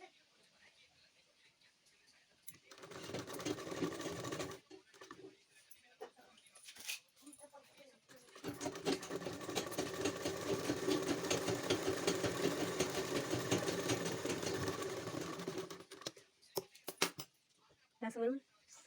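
A sewing machine stitches a blouse in two runs, a short burst and then a longer steady whirring stretch, up close at a quiet level, with someone talking between runs.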